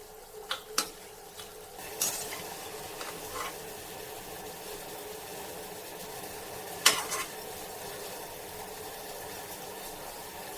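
Chhena jilipi frying in a wok, a faint steady sizzle with a few sharp clinks of a spoon or utensil against the pan, quiet and without voices.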